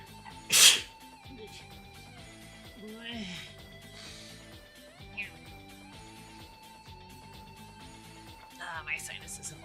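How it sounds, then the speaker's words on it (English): One sharp, loud human sneeze bursts out near the start, followed by quieter background sounds and faint sniffing in an indoor room. "I have to sneeze."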